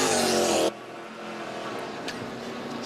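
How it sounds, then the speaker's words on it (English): A big Ford race car engine roars loudly at Watkins Glen during the Six Hours of The Glen endurance race, a harsh high-pitched wail that cuts off abruptly into lower track and pit-lane noise. "Drowned out by the siren sounds of that big Ford engine."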